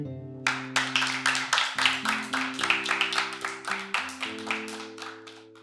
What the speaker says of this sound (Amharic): ጎበዝ ተማሪዎች አጨብጭቡላት